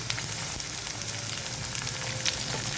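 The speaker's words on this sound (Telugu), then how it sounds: "మంచిగా ఫ్రై చేసుకోవాలి." Onions and curry leaves fry in hot oil for a carrot curry, giving a steady, close crackling sizzle throughout with faint scattered pops and no talking.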